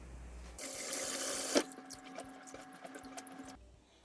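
Cooked bean sprouts rinsed in cold water at a sink, with tap water gushing steadily for about three seconds, a brief squishy splash partway through, then trickles and drips close by.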